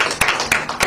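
Audience applause at a women's football sponsorship event, with three sharp claps rising out of a steady crowd clatter over about one second.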